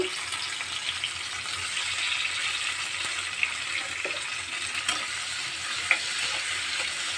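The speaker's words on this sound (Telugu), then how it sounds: "ఇప్పుడు ఈ ఆయిల్లోనే మళ్ళీ టమాటా వేసుకుందాము." Tomato pieces fry in hot oil in a pan for a Telugu tomato chutney, giving a steady soft sizzle with a few light clicks of stirring and no talk.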